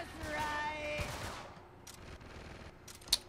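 Gunfire in Uncharted 3 multiplayer comes as a rapid fusillade of shots that fades out, then gives way to quieter game ambience with a sharp pop near the end.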